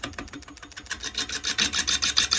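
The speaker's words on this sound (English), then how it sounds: "Just keep the gouge in one place on the rest." Gouge cutting into a large ash live-edge bowl spinning on a wood lathe, a rough rasping scrape that pulses in a steady rhythm and grows louder and harsher over a couple of seconds, close up with no talking.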